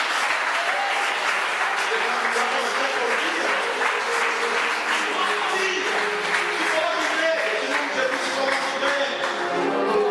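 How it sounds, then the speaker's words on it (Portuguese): A church congregation applauds as a dense, sustained wash of clapping that holds steady and loud for the whole stretch. "Será que dá para você aplaudir o Senhor nessa noite?"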